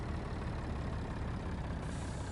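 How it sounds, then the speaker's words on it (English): A truck in a farming game lets out a steady, broad hiss from its air brakes over a low engine rumble, lasting the whole brief moment with no speech. "Brakes."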